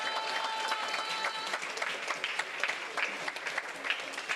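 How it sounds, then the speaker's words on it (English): Steady audience applause for a cricket team after a match against Combermere at the Oval, a dense wash of many hands clapping at moderate distance throughout. "So give them another round of applause,"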